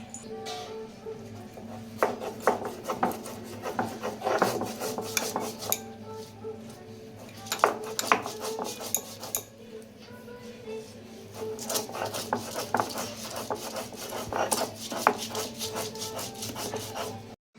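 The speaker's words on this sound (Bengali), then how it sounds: "আমি এখানে পোস্ত কাজু বাদাম কাঁচা লঙ্কা আর লবণটা বেটে নেব একসাথে" Poppy seeds, cashews, green chili and salt ground together on a grinding stone, making repeated scraping and knocking strokes in an irregular rhythm at close range, loud and continuous without speech.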